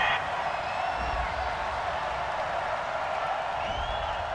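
A football stadium crowd reacts to a penalty flag with a sustained, distant roar of disapproval that holds steady without letting up.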